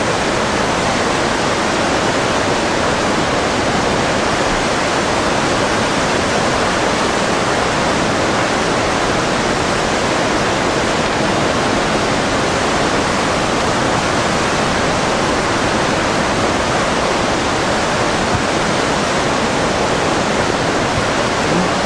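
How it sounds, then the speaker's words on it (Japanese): A tsunami wave's rushing water pours in a dense, unbroken roar, loud and constant from start to finish with no break or talk. "ただこんな津波来てたのね。"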